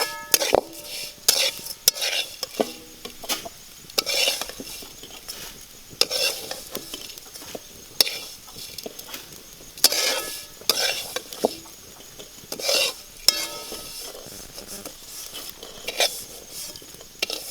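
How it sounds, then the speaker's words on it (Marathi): Roasted vermicelli stirred in ghee in a pan over a village wood-fired stove, a spoon repeatedly scraping and clinking against the pan in a steady rhythm over a light sizzle, close and moderately loud with no talking. "शेवया चांगल्या भाजलेल्या आहेत। आता आपण काढून घेत आहोत।"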